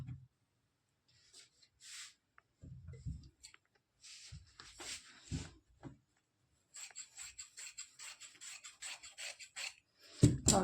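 Scissors cutting salwar fabric for a belt, close and quiet, with separate snips and rasping strokes, then a quicker run of short cuts near the end.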